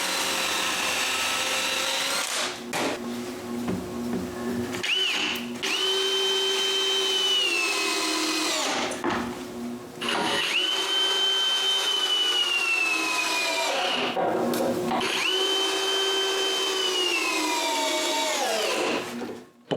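Power drill driving large all-purpose screws into a wooden door frame, in several long whining bursts of motor strain separated by short pauses, loud and close with no talk.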